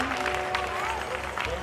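Crowd clapping at a devotional jagran, continuous dense applause close by, with speech or singing mixed in underneath.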